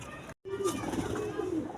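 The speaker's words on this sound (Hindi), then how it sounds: "ये टैडी कबूतर है" A Teddy high-flyer pigeon in Karachi gives a short, low, wavering coo at close range over faint background noise, after a brief break in the sound.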